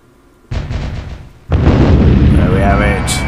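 A dropped bomb explodes in the EF2000 Eurofighter Typhoon flight game: a soft thump first, then a loud, heavy boom that rolls on with a long rumbling tail, joined by a brief high tone near the end.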